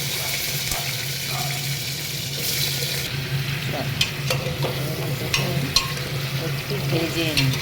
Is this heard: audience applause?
no